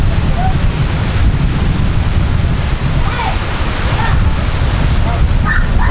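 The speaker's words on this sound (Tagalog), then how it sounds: "May bagyo guys, may bagyo. Lakas ng hangin oh." Strong typhoon wind roars steadily around a renovated jeepney house in Pepita Park, Sorsogon. It makes loud, continuous buffeting close to the microphone, with faint voices underneath.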